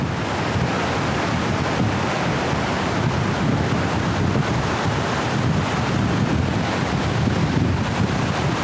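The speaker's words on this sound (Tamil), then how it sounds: "இந்த ஃபால்ஸ் பாருங்கள் இந்த ஃபால்ஸ் சூப்பரான ஃபால்ஸு அருமையான ஒரு ஃபால்ஸு" A waterfall in a forest roars with a dense, constant rush of falling water, loud and close, with no pauses or voices.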